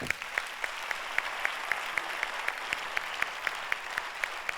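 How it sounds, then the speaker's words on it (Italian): Audience applause at a live Neapolitan song broadcast event in New York, dense clapping from a crowd with a few sharp individual claps standing out rhythmically, fairly faint and steady throughout. "Applauso a New York."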